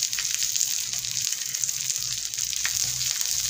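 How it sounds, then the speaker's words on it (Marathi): Grated coconut, garlic cloves and a piece of ginger sauté in a pan over low heat for a Maharashtrian matki sprout dish, giving a steady, close sizzle and crackle with no talk. "हे चांगलं आपल्याला परतून घ्यायचं आहे."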